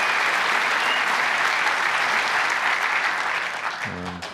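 Crucible crowd at a snooker world championship applauds a century break, a dense sustained round of clapping that fades out near the end as a voice begins speaking.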